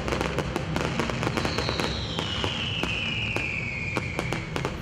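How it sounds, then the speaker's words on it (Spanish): Fireworks rockets cracking and popping in a rapid irregular string at midnight on New Year's in Oaxaca villages, with a rising whistle from a rocket cutting through, heard from a middle distance. "ya se empezaban a escuchar los truenos que producen los cohetes de los poblados"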